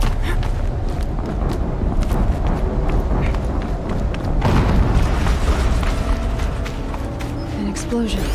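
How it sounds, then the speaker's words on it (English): Explosions and heavy rumbling booms from the PS5 game Horizon Zero Dawn fill a busy, loud mix, with a big blast swelling around the middle amid continuous game action and effects. "An explosion."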